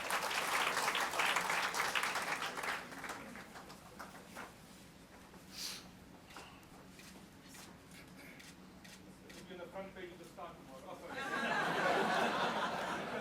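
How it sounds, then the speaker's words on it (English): Applause from the audience at a book launch, a broad patter of clapping at the start and again near the end, with quieter chatter and some chuckling in between. "some applause for him as well, please"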